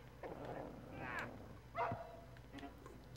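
Dog in the video game Rule of Rose yelping and barking as it is struck, a few short, fairly faint cries spread across a quiet game background.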